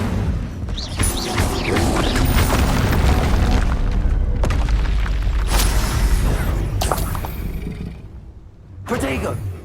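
Fiery blasts from an Incendio fire spell in Hogwarts Legacy boom and crackle through a loud, sustained battle, with several sharp bursts and spell voices.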